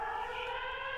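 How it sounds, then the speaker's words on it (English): A rocket alert siren sounding from a phone during rocket fire toward Gedera, Israel, a steady electronic wail with stacked tones held for the full second, loud and alone with no talking. "this is the siren that goes off on my phone"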